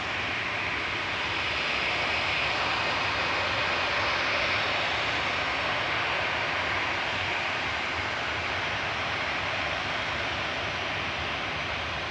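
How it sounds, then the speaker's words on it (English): A Ryanair Boeing 737-800 jet airliner at Manchester Airport, heard as a steady, loud, broadband roar of engine noise that holds at an even level throughout, with no talk over it. "Ryanair heading to Gran Canaria next with flight 2583. This is EBS 737-800."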